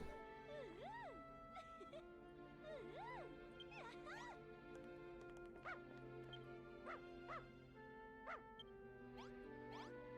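A dog barks repeatedly in Dragon Quest Builders 2, short yips and barks scattered over a steady game music backdrop, fairly close and moderately loud.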